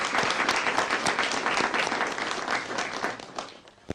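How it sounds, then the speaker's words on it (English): Applause from a live quiz show audience fills a few seconds with dense clapping, strong and close at first, then thinning out toward the end. "I think let's clap to GBC."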